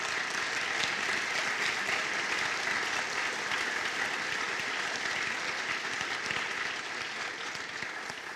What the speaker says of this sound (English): would you please stand up one more time and get a round of applause for all